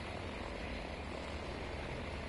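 Propeller plane engine droning in Battlefield V, a steady, even roar at a moderate distance, unchanging throughout, with no voices.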